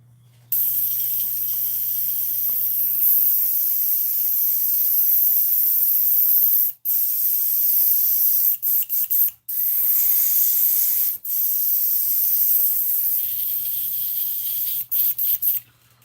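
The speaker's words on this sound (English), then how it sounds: "let's get this airbrush cleaned off" Compressed-air hiss from an airbrush spraying during cleaning before gold paint is loaded for a fishing lure, steady and close for about fifteen seconds with brief cutoffs, under a faint low hum.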